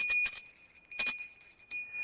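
Bright notification bell chimes ringing in quick repeated strikes, clear and close, with ringing tones fading between hits and no voices.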